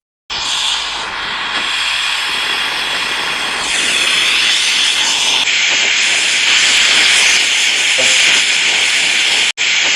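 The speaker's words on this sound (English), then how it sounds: "Adjust the flame on the torch." An oxygen-propane brazing torch flame roars with a steady, loud broadband hiss for about ten seconds, close and continuous, being adjusted, with a brief dropout near the end.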